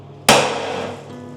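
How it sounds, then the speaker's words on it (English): An object struck as hard as possible in a damage test, one loud sharp impact with a glassy, rattling ring that decays slowly over about a second, close and alone. "We're going to smash this as hard as we can"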